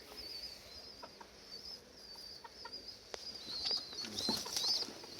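Young Mikołajewski pigeons in a loft give soft, scattered coos and rustles, with faint chirps rising near the end, all fairly quiet and close.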